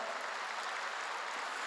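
Church congregation applauding, a steady, even wash of many hands clapping together, sustained throughout at moderate volume with no talking.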